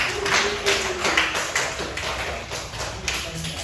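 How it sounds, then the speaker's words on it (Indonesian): A classroom of students in Indonesia claps for a classmate after a teaching-practice lesson. Steady, scattered hand claps with tapping texture run throughout at moderate level, with some faint voices mixed in. "Tepuk tangan semuanya untuk Marsya."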